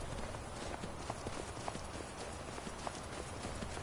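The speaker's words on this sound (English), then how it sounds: "I can also ride my horse" Horse hooves clip-clop in a steady, quick rhythm as a rider travels in the Skyrim video game, heard over a dense, noisy game soundscape.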